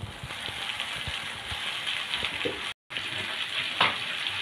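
Papaya dhoka spice mixture sautéing in oil in a pan gives a steady, close sizzle with small stirring scrapes, and the sound drops out for a moment partway through.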